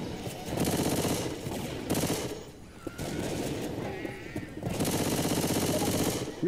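Rapid automatic gunfire from a zombie-shooting video game played on a Lenovo ThinkPad T530, coming in several dense, loud bursts separated by brief pauses, with no talking.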